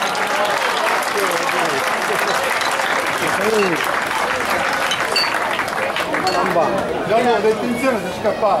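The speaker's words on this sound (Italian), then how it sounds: "c'è il pubblico che vi applaude" A rally crowd at the 8th Rally Porta del Gargano applauds the crews, loud sustained clapping mixed with cheering and chatter from people close by, continuing steadily throughout.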